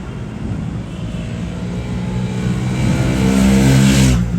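A Triumph Speed T4 motorcycle engine revs up, its steady drone rising in pitch and loudness toward the end, close and alone with no talk.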